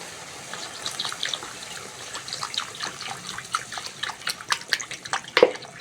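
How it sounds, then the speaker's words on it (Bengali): Water is poured into a pan of potol chicken curry, a splashing trickle that builds steadily into a fuller, louder gush with bubbling spatters toward the end. "এবার জল দিয়ে দেবো।"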